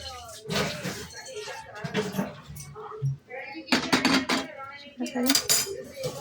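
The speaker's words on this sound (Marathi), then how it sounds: "तापायला ठेवली कढई" A metal kadhai set down on a gas stove, with several close clanks and scrapes of cookware and utensils heard between spoken words.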